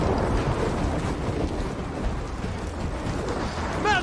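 A howling wind storm in Gears of War 4, a loud, constant rushing roar with gusty swells throughout and a brief higher-pitched whine near the end.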